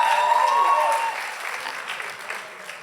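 Applause from a gathering honouring new baptism certificate recipients, steady and fairly loud at first, then thinning slowly as the clapping tapers off.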